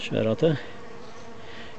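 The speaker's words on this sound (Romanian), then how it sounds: "După cum percep eu volumul de albine" Honeybees drone steadily in an opened hive during an inspection in early November, a low, even buzz that carries on alone after a brief spoken phrase at the start.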